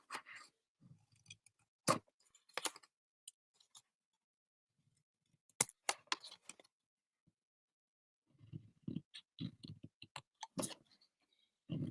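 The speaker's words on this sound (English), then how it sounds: "what we're going to do is just trim this up a little bit" Scissors trimming a paper craft piece, a series of crisp snips and clicks separated by quiet pauses, close and fairly faint, with no talking.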